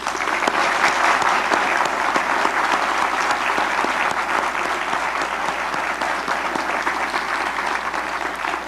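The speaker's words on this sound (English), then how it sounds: "let us conclude with a second round of applause for our speakers" Sustained applause from a lecture audience at a creation versus evolution talk, dense and steady clapping throughout at an even level, with no voices over it.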